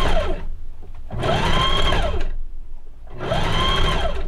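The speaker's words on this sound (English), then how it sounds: "I'm going to go and sew these two together, and then I'm going to go and serge that raw edge." A sewing machine stitches tiers of a skirt made from a bedsheet in three bursts of steady whirring, with short pauses between them, heard close and loud without any talk.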